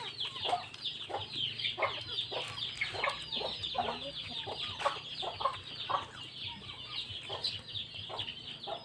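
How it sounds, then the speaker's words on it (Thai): Farm chickens cluck busily while squabbling over scattered rice, with rapid, overlapping calls repeating close by throughout, and no talk over them. "ไก่มันแย่งข้าวกันทุกคน"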